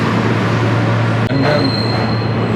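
New York City F line subway train with metal wheels squealing loudly and continuously against the rails, a steady screeching over deep rumbling car noise, with a brief dip midway.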